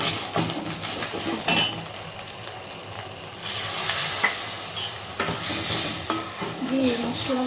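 Ground cumin and garam masala powder sizzle and fry in a pan with oil while a utensil stirs them, scraping and clinking against the metal in an ongoing rhythm, close and fairly loud, with no talking.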